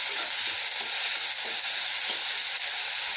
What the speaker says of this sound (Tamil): நல்லா பொரியுதுங்க